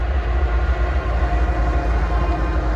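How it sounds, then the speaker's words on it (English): Light engine move of Norfolk Southern locomotives passing at Bluefield, West Virginia, a steady loud diesel rumble with rail noise throughout, no talk. "Got a light engine move."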